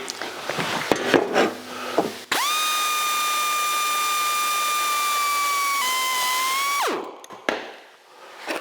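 A power cutting tool slices off an old metal part on a 1982 Jeep CJ7, a steady loud whine holding for about four seconds and dipping slightly in pitch near the end, with clanks and shop noise before and after.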